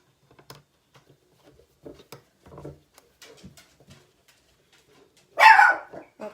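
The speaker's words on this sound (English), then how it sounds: "Oh, that's my little dog." A small dog gives one sharp, close bark, with a quieter yap after it, following a run of soft tapping and clicking from handwork at a square loom indoors.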